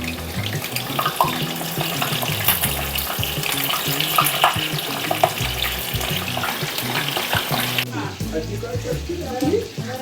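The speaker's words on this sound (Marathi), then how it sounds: "आता इथं आपलं तेल तापलं आहे, आता मी ह्या मिरच्या तळून घेणार।" Green chilies frying in hot oil for bhaji, a dense continuous sizzle and crackle up close with faint talk in the background.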